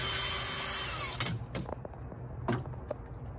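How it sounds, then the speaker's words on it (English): Electric power drill spinning in forward as it is pulled out of a freshly drilled hole in a tree for a treehouse strut. A loud, steady whir runs for about a second, then cuts off, followed by a few close clatters and knocks. "I'm going to keep my drill in forward, but I'm going to pull my drill out"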